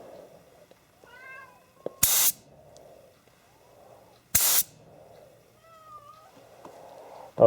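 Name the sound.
cat meowing outside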